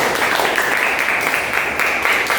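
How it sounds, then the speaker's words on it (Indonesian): Applause for the first student group in an informatics classroom, a steady dense wash of many hands clapping together, moderately loud and continuous, with no talk over it. "Sekali lagi tepuk tangan untuk kelompok satu."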